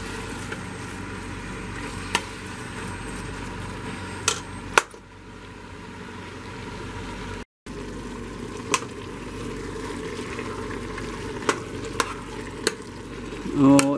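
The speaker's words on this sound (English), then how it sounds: "And the burger meat. Oh yeah. I'm going to have to let that cook for a little bit." Ground beef burger meat frying in a pan for chili, a steady loud sizzle with scattered sharp clicks of a spatula, briefly cut off mid-way before resuming.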